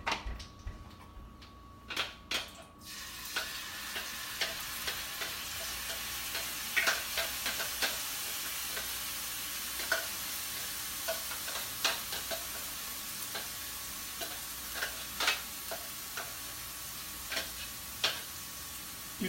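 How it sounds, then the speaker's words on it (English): Ginger and chili paste sizzles steadily in a pan with shirataki noodles at medium heat, while irregular light clicks and taps of stirring come through close by. "Add ginger and chili paste"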